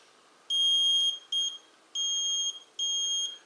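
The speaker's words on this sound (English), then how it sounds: "So now if you connect the leads together, like so," A continuity tester beeps as its leads touch together while checking a lawn and garden tractor relay: four steady high-pitched electronic tones, the second short, clear and close over faint background hiss.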